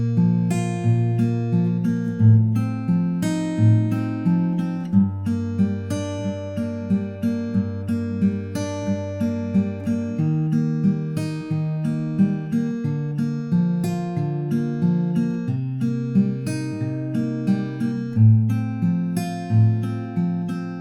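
Acoustic guitar fingerpicks the opening line of a song, steady rolling arpeggios over moving bass notes, clear and close with no voices.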